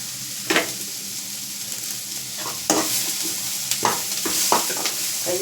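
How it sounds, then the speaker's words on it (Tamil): Onions and curry leaves sautéing in a pan for a potato masala, a steady close sizzle with repeated scraping stir strokes of a spoon against the pan. "வெங்காயம் கொஞ்சம் ஓரளவுக்கு நல்லா வதங்கிட்டு வந்து கருவேப்பிலை சேர்த்துக்கலாம்."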